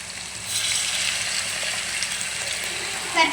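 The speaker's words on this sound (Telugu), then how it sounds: "ఇప్పుడు వచ్చేసి కొన్ని వాటర్ పోస్తున్నాను." Water splashes into a hot pan of bottle gourd and chicken curry, raising a steady loud sizzle and hiss that builds and holds, with a brief bubbling burst near the end.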